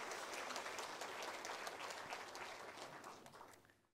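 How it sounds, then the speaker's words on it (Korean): A church congregation at a Sunday worship service applauds the choir, with dense, even clapping that stays steady and then gradually fades out. "다시 한번 우리 박수로 드리겠습니다."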